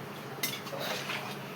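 Spoon scraping and clinking against a pot while stirring curry with tomato powder, a short burst of metallic stirring close by.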